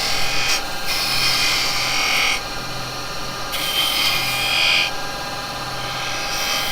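Woodturning gouge with a hollow grind beginning to cut a spinning workpiece on a lathe, a steady loud broadband hiss and whir that swells and eases in long sections with no pauses.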